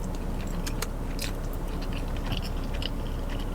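Close, soft chewing of McDonald's eggs during a mukbang, a steady run of moist mouth sounds over a constant background hiss, with no talking.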